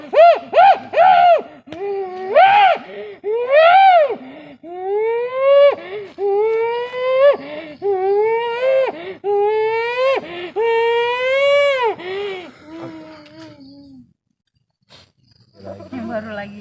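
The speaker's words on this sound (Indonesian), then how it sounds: "Ini menangis ya? Ya kayak suara bayi ya." High wailing cries like a baby's, heard on a forest hill: about a dozen long rising-and-falling moans, loud and close, coming one after another with short gaps, then a pause and a brief rustle at the end.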